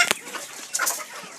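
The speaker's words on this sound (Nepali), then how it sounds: "यो चाहिँ लोकल कुखुराको फार्म तपाईँहरूले देख्न सक्नुहुँदैछ" Local village chickens cluck softly at a farm, a few short, close clucks over quiet background.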